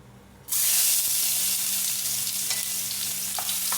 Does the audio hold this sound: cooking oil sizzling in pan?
yes